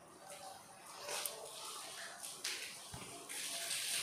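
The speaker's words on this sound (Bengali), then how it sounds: "বাবা জল দিচ্ছে এখন" Water runs and splashes through newly laid household plumbing pipes. The flow is soft and continuous with a few louder gushes and small knocks.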